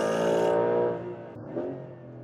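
A Porsche 911 GTS Hybrid accelerating hard, a loud rising engine roar with dense harmonics for about half a second, then easing into a lower, steadier drone with a brief second surge.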